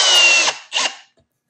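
A power drill briefly spinning in reverse on Torx head screws, a loud whirring burst, a short pause, then a second shorter whir before it stops, close up.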